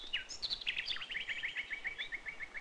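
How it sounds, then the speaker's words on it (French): Birds chirping in the video game Adibou et l'Ombre Verte, a fast run of high, clear repeated chirps in a quick rhythm, moderately loud and heard alone. "Vous faites du bruit, hein, en piaillant comme ça."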